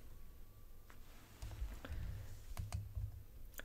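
Numbers typed on a computer keyboard into a Tinkercad design tool, a handful of light, scattered key clicks over a quiet room hum, close but faint, with no talk.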